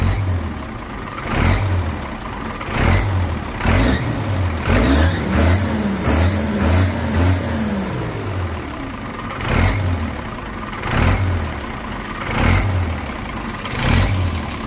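Turbocharged 8210 engine fitted with racing springs, revved repeatedly in short blips over a steady rumble, each rev rising sharply then dropping back, with a quicker cluster of throttle blips in the middle, loud and close.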